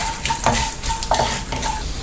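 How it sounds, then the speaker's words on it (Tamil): Cooked rice being stirred in a hot frying pan while making Tamil-style peanut rice, a steady scraping stir over a continuous sizzle, with a few louder utensil strokes against the pan, close and without talk. "இதையும் நல்லா பரட்டி விட்டுக்கோங்க."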